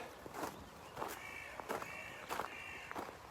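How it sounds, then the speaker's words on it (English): A crow caws outdoors, four harsh calls spaced about evenly over steady background noise, moderately close and clear, with no talking. "And the crow agrees."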